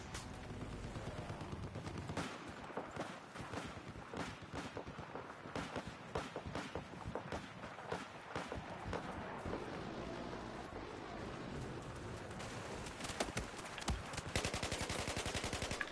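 Rapid automatic gunfire from a weapon in the video game Battlefield 4, dense bursts of shots cracking continuously and loudly throughout, with game effects and a voice faintly underneath.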